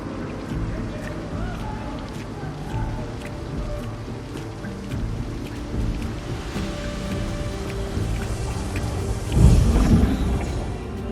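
Steady rain patters across a neon-lit city street, a continuous dense hiss of drops with a brief heavier swell near the end; no clear thunder stands out.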